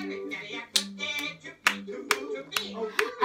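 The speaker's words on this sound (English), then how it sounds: "Clap your hands." Hands clap sharply along to a children's story-time reading, about six crisp claps spaced irregularly, close and loud over a background of harmonic music or voice.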